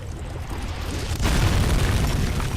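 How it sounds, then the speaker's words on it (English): A deep, rumbling blast goes off in the horror game Amnesia: The Dark Descent, a heavy boom that jumps in loudness partway through and rolls on as a low, roaring rumble. "setting off that explosion makes me feel so sane"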